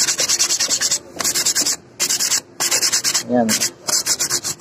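Sandpaper is rubbed over a rusty Rusi motorcycle mag wheel in loud, rhythmic back-and-forth strokes, grouped in bursts separated by short pauses, with a brief spoken word in between.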